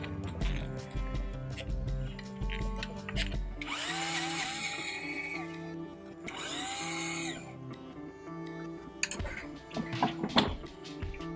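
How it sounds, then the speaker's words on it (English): A power drill or impact driver backs 10mm bolts off a transmission pan on an Audi/VW 09G gearbox, with two sustained whirring runs plus shorter bursts, close and loud, alongside clanks of workshop handling. "we're going to remove the 10mm bolts that hold the pan on."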